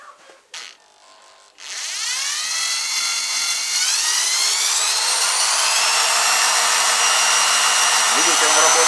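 A small 12-volt fan motor spins up with a rising whine after a few clicks, then holds a steady high-pitched buzz, close and loud.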